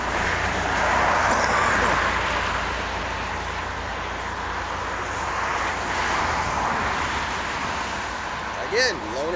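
Passing road traffic swells and fades in a broad, continuous wash of noise with low rumble beneath, rising as vehicles go by and easing off between them.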